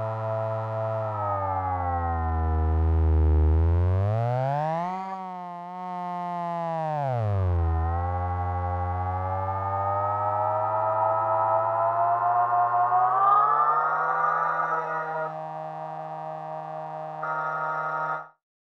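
A Logic Pro Alchemy synth patch morphed by dragging the XY pad, a bright harmonic drone that swoops up and back down in pitch, then swells brighter and grittier before cutting off, with no voices.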